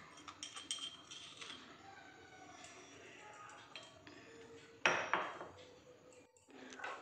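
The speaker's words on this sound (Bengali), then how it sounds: "ভালোভাবে মিশিয়ে নেব।" Uttapam batter mixed with salt and ground fennel in a bowl, giving scattered clinks and scrapes of a utensil against the bowl, fairly faint and close, with a louder burst of clatter partway through.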